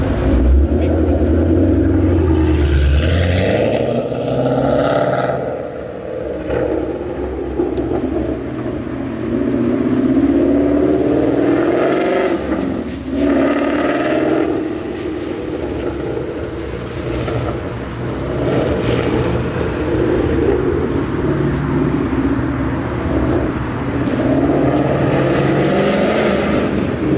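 A car cruises by at an easy, steady pace, its exhaust a low, droning rumble that swells, dips and builds again over nearly half a minute, loud and close, with no clear talk over it.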